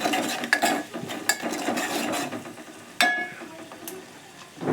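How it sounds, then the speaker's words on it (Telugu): Ginger garlic paste is stirred in hot oil in a pan for capsicum curry, producing close scraping and clinking of a spoon over a soft sizzle, with a louder metallic knock partway through. "అల్లం వెల్లుల్లి పేస్ట్ మంచిగా కలుపుకుందాం."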